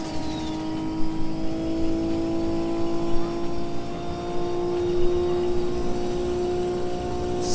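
Turbocharged muscle car engine in a video game holding a steady, loud droning tone at sustained speed, a continuous hum with no clear revving changes.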